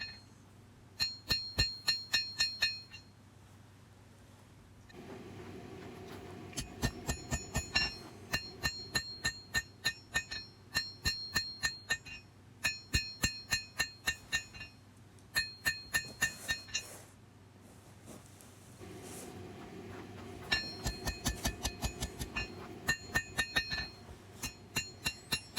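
A hammer rings against a tiny knife blade on an anvil while its bevels are forged, in repeated bursts of rapid, bright metallic blows separated by short pauses.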